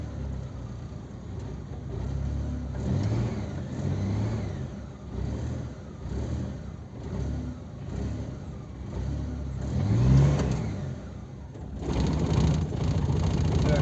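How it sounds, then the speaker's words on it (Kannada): An idling vehicle engine warming up gets revved in repeated swells, with a steady mid-low rumble rising and falling throughout and a stronger rev near the end. "ರೇಸ್ ಮಾಡಿ ರೇಸ್ ಮಾಡಿ ಒಂದು ನಿಮಿಷ ರೇಸಿಂಗ್"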